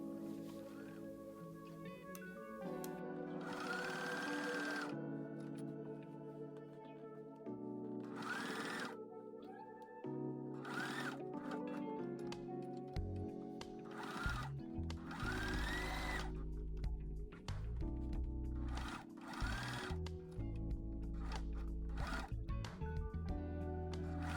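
A sewing machine stitches fabric for a tablet pouch, running in repeated bursts of fast mechanical whirring and clatter, loud and close, with short pauses between runs and handling noises in between.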